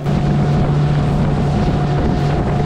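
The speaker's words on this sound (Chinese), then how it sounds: "这种小船很轻，能够开得很快" A small, light fishing boat speeds across the sea off Kaohsiung, its engine a steady, loud drone with constant hull and wind rush, continuous and close throughout with no talk.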